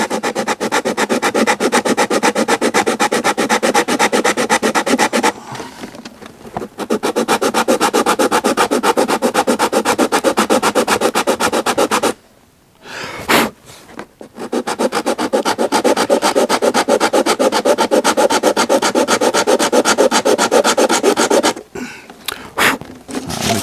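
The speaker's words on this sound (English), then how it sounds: "I can start just sanding the bottom of the feet." Sandpaper rubbed steadily back and forth under the feet of a wooden violin bridge, a close, continuous dry scraping that stops twice briefly before resuming.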